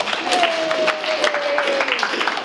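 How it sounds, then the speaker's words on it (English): An audience gives a round of applause at a gallery exhibition closing reception, brisk, close clapping that fills the room for a couple of seconds alongside a brief held tone. "We'll give him a round of applause, too."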